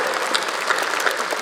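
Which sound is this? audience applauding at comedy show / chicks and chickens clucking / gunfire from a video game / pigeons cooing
audience applauding at comedy show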